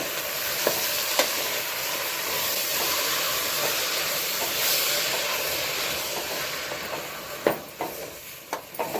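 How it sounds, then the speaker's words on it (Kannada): Potatoes and eggplant fry in a pan for moong dal khichdi, with a steady, close sizzling hiss throughout and sharp spoon taps and scrapes from stirring, more frequent toward the end. "ಆಲೂಗಡ್ಡೆ ಹಾಕ್ಕೊತಾ ಇದ್ದೀನಿ. ಎಲ್ಲ ಸ್ವಲ್ಪ ಹೊತ್ತು ಫ್ರೈ ಮಾಡ್ಕೊತೀನಿ."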